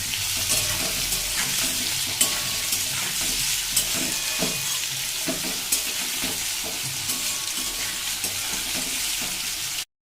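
Potatoes fry in oil with whole cumin seeds and salt, a continuous close sizzle with regular scraping clicks of stirring throughout, ending abruptly.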